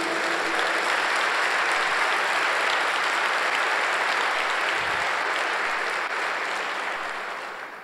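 A church congregation applauds at a Sunday service, with dense sustained clapping filling the room at a steady loudness that tapers slightly toward the end.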